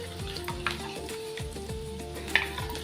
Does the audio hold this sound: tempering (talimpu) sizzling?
yes